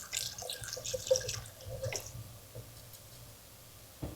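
Tepid water is poured over sprouting seeds in a container, giving a soft, close splashing and trickling for the first couple of seconds before it fades to a few faint drips and quiet.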